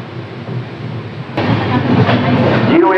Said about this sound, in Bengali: বাঁকুড়া স্টেশন থেকে আমাদের ট্রেন ছাড়লো